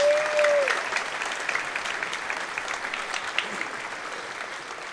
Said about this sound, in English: Let's have another round of applause for our string students